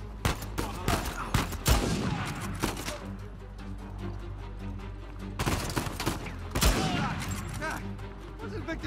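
Video game gunfire in Uncharted 4: bursts of loud, close shots and rapid volleys in two clusters, separated by a quieter stretch of game ambience.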